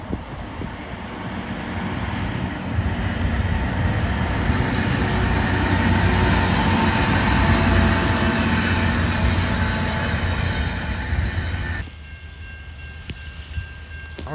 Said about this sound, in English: Alright, looks like we got an Amtrak here.